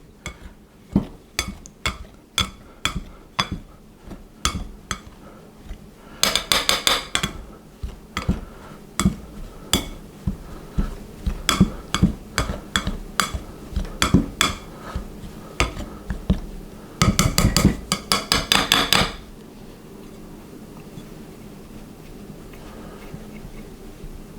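A pastry cutter working butter into pastry dough for minced steak pies, producing rapid, rhythmic clinks and scrapes against a bowl in repeated bursts, close and fairly loud, without any talking.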